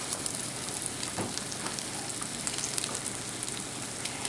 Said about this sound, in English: that bubbling, that sizzling sound is what you should get whenever you put something in the pan to fry